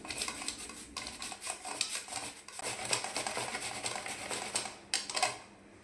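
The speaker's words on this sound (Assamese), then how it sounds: "এতিয়া ৰুকনি এখন লৈ এই আমটো এতিয়া ৰুকি ল'ম।" Raw mango rubbed over a hand grater for a chickpea pickle, giving close, steady rasping strokes in a quick repeating rhythm with a few sharper scrapes, no voices.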